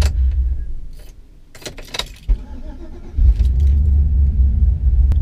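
Supercharged Chevrolet Tahoe truck engine being started: keys jingle and clicks sound, the starter cranks briefly, then the engine catches and settles into a loud, steady idle rumble close by.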